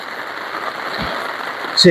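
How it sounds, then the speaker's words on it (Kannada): Steady hiss of rain falling on surfaces in Haveri district, a soft continuous patter, with a brief voice cutting in near the end. "ನೋಡ್ರಿ ಹೀಗೈತು ಮಳೆ ಎಲ್ಲ ಕಡೆ."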